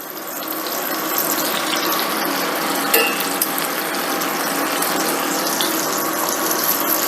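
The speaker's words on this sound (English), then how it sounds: "our goal with frying this is we do want to cook the chicken through" Chicken pieces fry skin side down in a pan with a loud, continuous crackling hiss that holds steady throughout, broken by a single brief click near the middle.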